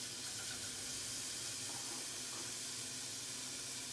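Bacon cooks on a flat top griddle over medium heat, giving off a steady, close, dense hiss and sizzle that carries on unbroken with no talking.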